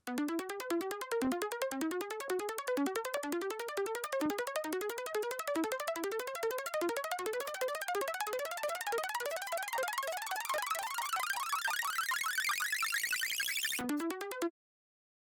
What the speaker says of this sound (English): now it's starting to sound like a riser